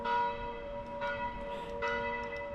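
Church bells ring at night, with two clear strikes about a second apart. Sustained, resonant tones hang between the strikes.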